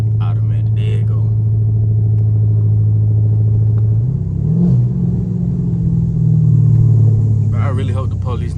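A straight-piped 2022 widebody Dodge Charger rumbles with a deep, loud, steady exhaust drone from inside the car, swelling as it pulls hard through second gear, with brief voices at the start and end.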